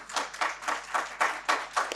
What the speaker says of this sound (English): I would like for everyone to welcome our speakers with the loudest round of applause